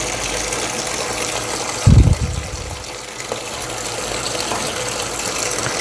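Water gushes into the tub of a Samsung semi-automatic washing machine with a steady rushing fill and a brief louder splash near the start.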